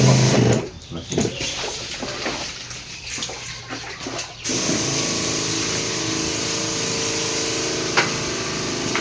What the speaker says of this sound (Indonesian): Kita semprot sebelah sini.